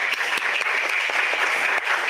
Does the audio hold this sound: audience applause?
yes